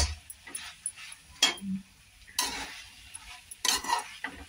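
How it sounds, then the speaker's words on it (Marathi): A spoon mixes toasted bread into masala in a pan, making scattered scraping and clinking strokes over a light sizzle, close and fairly quiet. "आता ब्रेड टाकू याच्यात आणि मिक्स करून घ्यायचे।"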